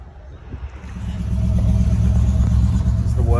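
Ford XB Falcon ute with no seats driving around a corner, its engine rumble building from quiet to a steady, loud low drone close by.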